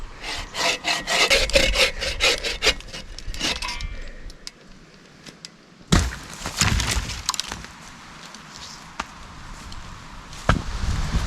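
A hand saw rasps through a log in the woods in quick rhythmic strokes, then stops, followed by scattered knocks and a second short burst of sawing.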